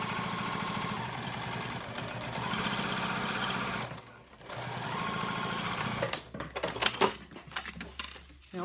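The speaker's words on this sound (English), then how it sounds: "I'm gonna sew with a 1/4 inch seam allowance" A sewing machine stitches a quarter-inch seam across cork clutch panels, running in a fast, even whir for several seconds, pausing briefly, then resuming before stopping in a few short, irregular bursts.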